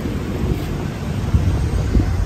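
Steady low wind rush buffeting the microphone at Marina Bay, Singapore, with a soft continuous roar and a few gusty thumps, no voices.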